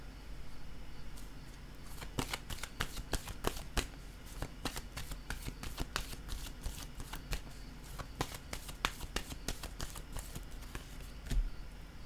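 Tarot cards are shuffled in quick crisp bursts of riffling snaps, close and clear, after a short quiet opening, then a card is laid down with a soft thud at the end.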